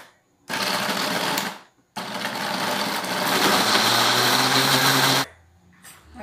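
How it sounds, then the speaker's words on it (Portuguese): An electric mixer whirs through Oreo cookies with their filling removed, blended with cream for a mousse. The steady, loud motor drone runs in two bursts with a short pause between them and no talk over it. "Vou usar o biscoito Oreo. Vou bater ele com esse creme."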